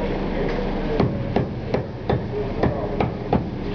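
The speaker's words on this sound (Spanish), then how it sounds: "Utilizamos el martillo para reducir el porcentaje del agua" Wet papyrus strips pounded with a hammer in Egypt to press out water, giving about eight regular sharp thuds, close and evenly spaced over a steady background hum.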